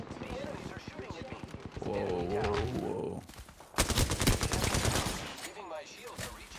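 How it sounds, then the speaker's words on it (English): Enemy gunfire in the video game Apex Legends, bursts of rapid shots crackling loudly through the middle and end, mixed with game effects while a player talks over it. "The enemies are shooting at me."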